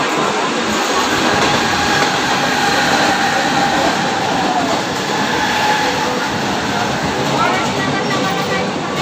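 Steady rumble and rattle inside a moving commuter train on the ride home, a continuous dense roar with wheel clatter that holds loudly throughout, with people talking faintly beneath it.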